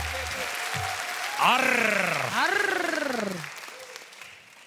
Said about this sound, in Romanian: Un rând de aplauze pentru jurații noștri!